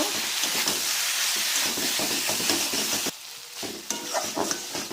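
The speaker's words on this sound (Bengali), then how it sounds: "ওর মধ্যে একটু সামান্য হলুদ দিলাম সামান্য লঙ্কার গুঁড়ো দিলাম আবারও ভালো করে কষিয়ে নেব" Masala with turmeric and chilli powder stir-fried in a pan, a loud continuous sizzle with scraping strokes that briefly drops away and then resumes more quietly, no speech.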